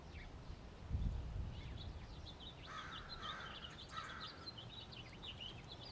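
House finches call faintly in the distance, short chirps and twitters repeating against quiet outdoor background noise, with a brief low thump early on.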